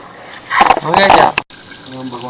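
Water pumps into a city's clean-water supply tank at a civil project site, a loud gushing rush that swells for about a second, cuts off abruptly, then gives way to quieter flow and faint voices.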